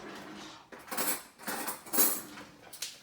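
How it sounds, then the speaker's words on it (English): Two forks stir mayonnaise through shredded cabbage slaw in a bowl, giving a few close, scraping metallic clinks and clatters in irregular bursts with no voice over them. "And then we're going to mix it up with 2 forks."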